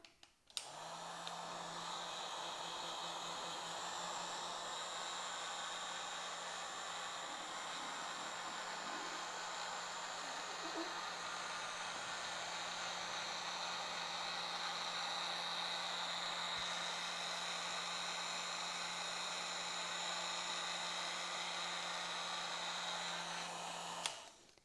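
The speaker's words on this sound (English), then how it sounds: "take a heat gun or a blow dryer to go along the graphic, especially around the edges" Heat gun or blow dryer warming the edges of a vinyl decal graphic on a 2021 Orion RXB 150XL, a continuous loud airy roar with a steady motor whine, running alone for about 24 seconds before cutting off.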